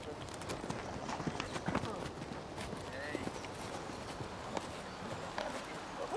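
Horse moving at stunt school training, hooves clip-clopping in irregular soft thuds on the ground at moderate distance, mixed with rustling and outdoor background noise.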